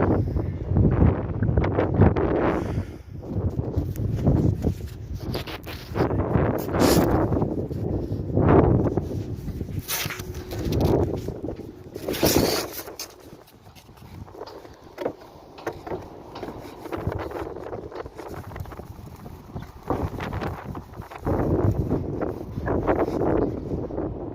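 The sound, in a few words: strong wind blowing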